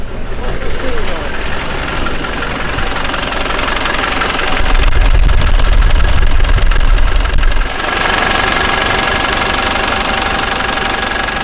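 A Land Rover Defender with a failed head gasket runs steadily nearby with a rough, knocking mechanical clatter, and the engine note swells lower for a few seconds in the middle.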